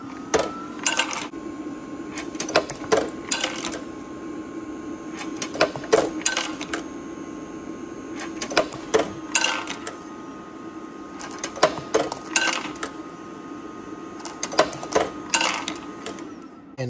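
Brass cartridge cases drop through a gravity-fed auto-feed induction annealer, clinking and rattling in irregular clusters of sharp metallic hits over a steady mechanical hum.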